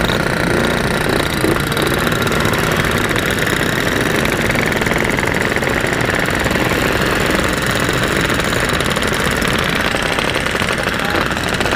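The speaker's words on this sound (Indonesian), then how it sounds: "Gas Mas Pedro" A Yamaha RX King 135cc two-stroke motorcycle engine revs loudly and steadily close by, a dense rattling drone that fills the whole stretch, with voices faintly mixed in.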